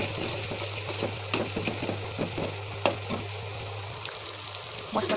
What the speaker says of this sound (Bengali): দিয়ে মশলাটা কিছুক্ষণ কষিয়ে নেব।